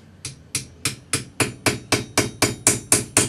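A cross peen hammer strikes a metal tribal shield pendant about a dozen times at a steady, even pace, each sharp, ringing tap close and clear as it textures a groove.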